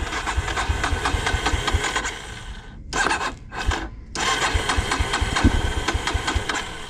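Dirt bike engine running steadily at low revs while a rider lugs it slow through rough ground, with rubbing and scraping mixed in and a brief dip before the motor picks back up.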